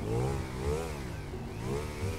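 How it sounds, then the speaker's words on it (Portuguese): A motorcycle engine in a GTA 5 roleplay video game revs in steady rising and falling swells, a continuous mid-pitched drone that fills the short moment with no talk over it. "Vou deixar minha moto bem aqui, ó. Vou desligar ela agora."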